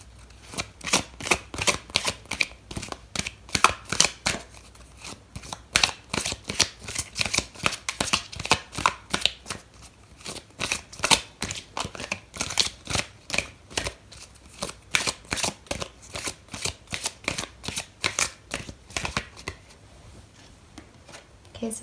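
Tarot cards shuffled by hand in a long run of quick, crisp riffling bursts, close and fairly loud, pausing briefly now and then before resuming.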